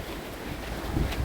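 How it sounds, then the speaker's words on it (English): Strong hurricane wind during Hurricane Ian buffets the microphone outdoors with a steady roaring rush, gusting slightly stronger near the end; no voices. "But it's really windy out here."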